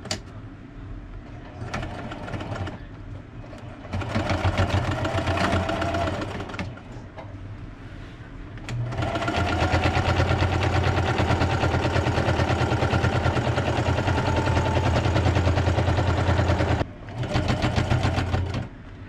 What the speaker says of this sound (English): Time to get into the heavy duty Singer sewing action. So, load up this giant blanket and just start chugging through.